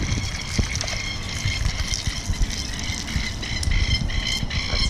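Toy monster trucks, including El Toro, Gravedigger and Hot Wheels models, are washed by hand: close water splashing, trickling and sloshing with small plastic knocks and clatter throughout, under light talk from a father and son.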